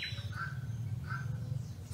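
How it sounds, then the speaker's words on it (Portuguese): Birds call at the end of the afternoon on a rural plot, a few short squawks and chirps rising faintly over a steady low background hum. "Olha os pássaros cantando."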